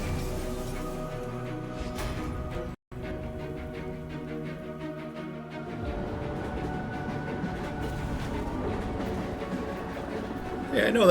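Train from the Monster Train 2 video game cinematic rumbles and clanks in a steady, heavy rolling drone with a brief cut near the start and a building swell toward the end, with some talk over it.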